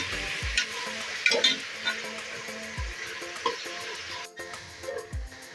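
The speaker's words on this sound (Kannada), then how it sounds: "ಟೊಮೊಟೊ ಹಾಕಿದ್ಮೇಲೆ 5 ನಿಮಿಷ ಚೆನ್ನಾಗಿ ಹುರ್ಕೋಬೇಕು" Tomatoes and capsicum fry in a pan for egg dum biryani, with steady close sizzling and repeated scrapes and clinks of a spoon stirring.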